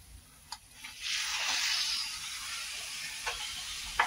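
Shredded cabbage hits a pan of frying toor dal, with a broad sizzle swelling up and holding steady while a few light stirring scrapes tick through.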